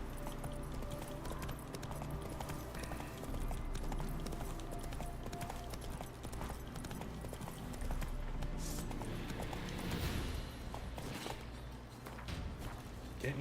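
Horse hooves clip-clop at a steady walking pace in The Witcher 3: Hearts of Stone, continuous and moderately loud beneath dense game music and ambience.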